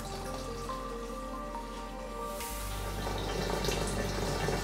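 Cooled or distilled water is poured into a container while mixing a WHO-formula alcohol-based hand rub, giving a steady splashing, trickling pour that continues to the end of the short clip.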